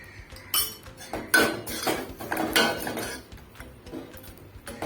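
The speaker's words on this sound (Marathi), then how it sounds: "हे असं चांगलं परतून झालं" A ground paste with turmeric being sautéed in a pan for a Malvani-style dish, heard as irregular clinks and scrapes of a metal spoon against the pan over a soft background sizzle, with no voices.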